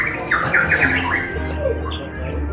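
Harsh, rapid squawks from a wild-caught green leafbird from Ujung Kulon burst out near the start, followed by a few softer calls over a low background rumble.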